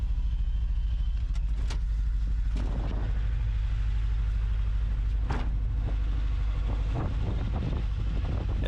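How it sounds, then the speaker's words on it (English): A restored Batmobile drives on a rough gravel road, its deep engine rumbling continuously under heavy wind buffeting, with occasional bumps and knocks from the surface. "The engine is running, we're making progress."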